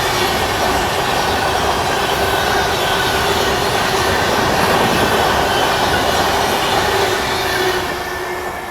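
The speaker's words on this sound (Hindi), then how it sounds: "अभी बगल से हाई स्पीड क्रॉसिंग होने वाली है, मुंबई दुरंतो एक्सप्रेस" The Mumbai Duronto Express crosses at high speed on the adjacent track, a loud, continuous close-range rush and roar of wheels and wagons with rail squeal that holds for several seconds before easing slightly.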